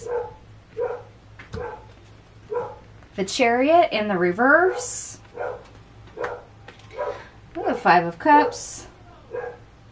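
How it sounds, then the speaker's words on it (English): A dog barks in bursts, several loud sharp barks near the mic between and over a person's steady speech, with a louder cluster around the middle and another near the end. "He's going to bark his head off."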